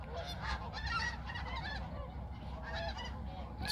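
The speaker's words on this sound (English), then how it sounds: "These are snow geese right here." Snow geese honk continuously in a dense flock, many overlapping calls near and loud over steady low background rumble, with no talk.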